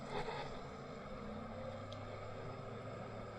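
A Sea-Doo personal watercraft idles slowly on a lake in no-wake cruise mode, giving a steady, soft low engine hum with faint water and wind noise and no voices.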